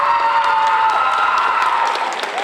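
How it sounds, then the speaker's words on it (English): Applause and cheering from a school audience at a tenth-grade story slam, loud continuous clapping mixed with shouts and whoops from students. "Round of applause."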